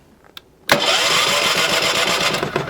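A Champion 3400-watt dual fuel generator starts without the choke: a couple of faint clicks, then the engine suddenly catches and runs at a steady, loud, close rumble.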